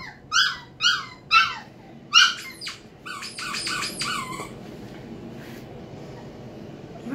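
Five-week-old puppies yelp and whine in a quick run of high squeaky cries, four distinct yips followed by a burst of overlapping whimpers, then fading to quiet near the end.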